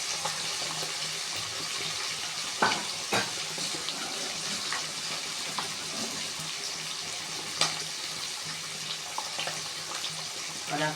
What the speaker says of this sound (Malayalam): അരപ്പ് ചേർത്ത് വെച്ചിരിക്കുന്ന ചിക്കൻ വറുക്കാനായിട്ട് ഇട്ടു